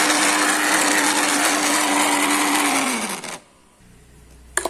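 A blender whirs loud and steady while making sugarcane-style juice without sugarcane, then its motor winds down and stops, leaving near silence and a couple of faint clicks.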